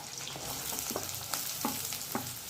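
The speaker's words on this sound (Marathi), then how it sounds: "कांदा घालून घ्यायचा आहे आणि कांदा छान आपण लालसर होईपर्यंत परतून घेणार आहोत" Onion frying with green chili in a pan for a chutney of daudi flowers, a steady close sizzle broken by several sharp stirring clinks and scrapes, with no talking.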